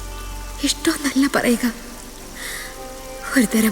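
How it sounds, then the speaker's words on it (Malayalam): Rain pouring down in a constant, even wash that stays beneath a voice speaking in short phrases throughout. "മഴയുടെ ഈ ആർത്തിരമ്പൽ എനിക്കെപ്പോഴും ഇഷ്ടമാണ്."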